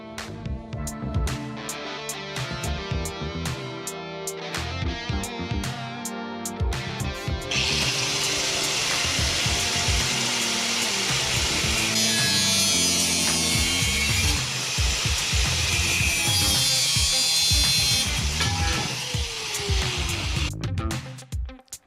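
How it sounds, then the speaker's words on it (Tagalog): An angle grinder cuts metal tubing for a DIY pedal train build. After some lighter clattering at the start, a loud, continuous high-pitched grinding whine takes over for about ten seconds before tapering off. No voices are heard. "Angle grinder nga pala yung ginamit ko pamutol dito."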